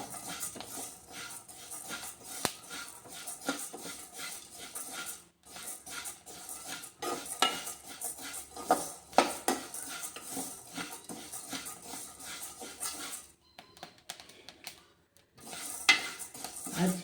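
Rice and lentils dry-roasting in a pan for a diabetic-friendly upma, stirred with a metal spoon that scrapes and clinks steadily against the pan, close and continuous, with a brief pause near the end.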